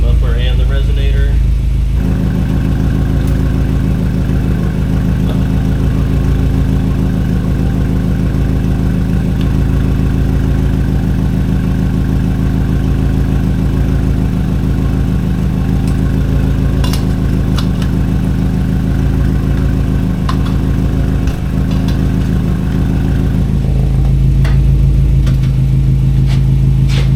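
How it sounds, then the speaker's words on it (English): Car engine running with muffler and resonator fitted on the exhaust, a loud, steady low rumble at idle for the whole stretch, with a brief lighter revving at the start and a slight change in tone near the end. "Next we will do the muffler and the resonator."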